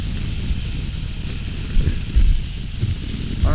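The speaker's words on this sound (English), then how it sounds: "today we're like riding into a storm and it's really windy" Strong, choppy crosswind buffeting a rider on a 2023 Triumph Tiger 1200 Rally Explorer at highway speed, a steady low roar with a few heavier gusts, close and loud with no talk.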